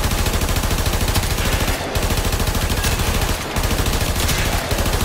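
Rapid automatic gunfire from a weapon in the sci-fi shooter Warframe, a loud, steady stream of shots with brief pauses between bursts.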